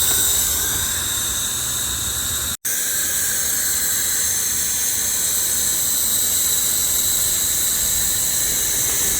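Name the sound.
coal-fired live steam locomotive blower hissing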